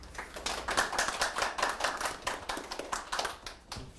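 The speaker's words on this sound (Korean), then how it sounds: "큰 박수로 환영해 주시기 바랍니다." Audience applause welcoming a history professor from Hankuk University of Foreign Studies at an academic conference, heard as a steady patter of many hands clapping at moderate volume throughout, with no talk.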